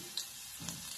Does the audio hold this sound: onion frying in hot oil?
yes